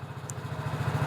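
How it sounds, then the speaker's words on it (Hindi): A BS6 motorcycle engine idles at high RPM on its automatic air-solenoid choke, giving a steady, fast, low-pitched throb close by. No one speaks. "इंजन का आरपीएम भी ज़्यादा है, तो इंजन अपने हिसाब से चल रही है।"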